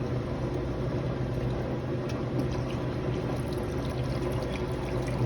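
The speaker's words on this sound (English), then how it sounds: "so you run the water in the middle like that" Steady running water flushes through a clogged part being cleaned out, a continuous broadband rush that stays even and close throughout with no voices.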